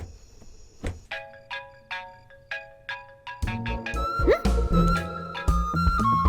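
A phone ringtone chimes in a short repeating pattern of bright tones in a Hindi-dubbed South Indian action movie, then gives way to louder background music.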